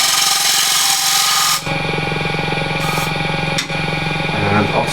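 Ash bowl spinning at 1300 RPM on a wood lathe while a bowl gouge shapes the inside, giving a steady close scraping and cutting noise that changes texture partway through, with a brief catch near the end.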